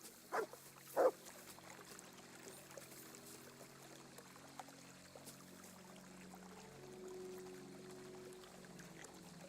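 A dog in the medieval video game Kingdom Come: Deliverance 2 gives two short, sharp barks near the start, followed by a quiet background hum and faint ambient sound.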